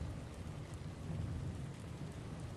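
Steady rain hisses at low volume, with a deep rumbling undertone like distant thunder running throughout.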